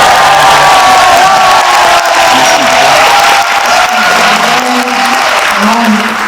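At a book launch talk, an audience greets a guest musician with loud, continuous cheering and applause. Dense clapping and shouts fill all six seconds at close range.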